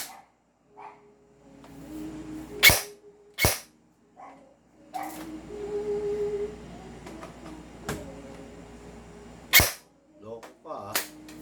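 Poseidon Medusa toy blaster firing, several sharp loud snapping shots spaced apart amid handling clatter, with people talking quietly in between.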